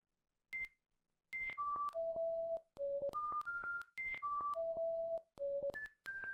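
Electronic beep sequence in the horror game Stalking Simulator: clean synthetic tones of differing pitches played in a two-part repeating pattern, some short and some held, fairly loud against silence.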